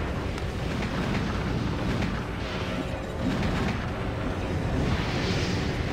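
Missiles and weapons fire rumble in Armored Core 4 Answer, a dense continuous roar of explosions and booms with shifting bursts, loud and unbroken.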